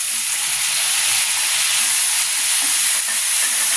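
Masala and cashew nuts sautéing in a pan for a chicken curry, a steady bright sizzle and hiss running close and continuous with no talk over it.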